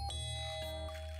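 A house doorbell rings with a bright, sustained electronic chime, a few clear tones ringing out over a low steady hum, with no voices.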